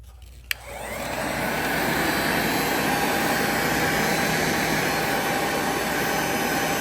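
A heat gun switches on with a click and ramps up to a loud, steady roaring whoosh of blown hot air aimed at a wallpaper corner, continuing unbroken with no speech.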